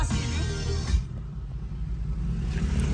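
A forged-engine Ford Mustang with a modified exhaust revs loudly nearby, a deep throaty roar that peaks and then settles into a rumbling idle.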